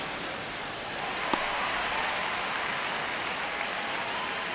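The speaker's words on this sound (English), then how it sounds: "crowd getting settled here at Dodger Stadium" Steady, dense stadium crowd noise at Dodger Stadium in the baseball video game MLB 26, a continuous roar of murmuring spectators with one faint sharp tick, heard alone without commentary.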